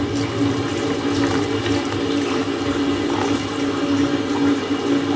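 Steady rushing hot water poured continuously into a rice flour mixture, a dense splashing wash that fills the whole stretch at moderate loudness, with no talking.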